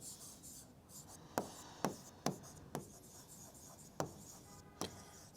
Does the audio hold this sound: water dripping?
no